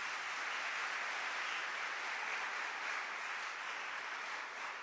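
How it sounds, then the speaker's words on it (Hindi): Sustained applause from a church congregation during a Hindi sermon, a dense, steady wash of many hands clapping at once that holds evenly for several seconds without any voices over it. "तालियां बजाएं और उसको धन्यवाद दें।"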